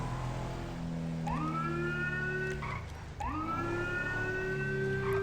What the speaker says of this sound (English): I love how the siren on this thing makes it sound so powerful